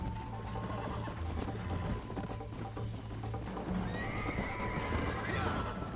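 Horse neighing and whinnying in the Western video game Red Dead Redemption, with hoof clip-clop, under steady game ambience and talk.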